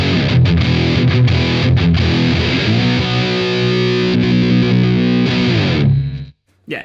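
Electric guitar played through a Valeton Loft Series DS-10 distortion pedal, thick hard-edged chords ringing loud and sustained before cutting off abruptly, with a brief spoken word at the start.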